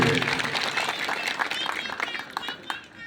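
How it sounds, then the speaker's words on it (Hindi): A crowd at a road foundation ceremony breaks into brief, dense applause, heard at moderate loudness with voices mixed in. "आप जोरदार तालियों से अभिनंदन करिए"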